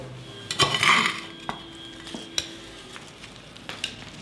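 Soil is poured into a plant pot. A gritty rush of loose earth comes near the start, then a few scattered taps and knocks against the pot in an otherwise quiet setting.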